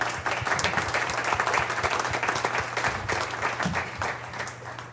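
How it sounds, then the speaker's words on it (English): Sustained applause from an audience at a city mayor's evening event honoring a police detective sergeant, loud and steady clapping throughout with no talk. "Please give him a big round of applause, everybody."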